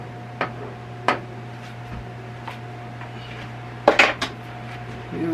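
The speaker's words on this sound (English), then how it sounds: "Using a regular big spoon to dip up the cheese onto the meat and the chips" A big metal spoon clinks against a dish while scooping cheese onto meat and chips for nachos, giving a few sharp, scattered taps and scrapes at close range over a low steady hum.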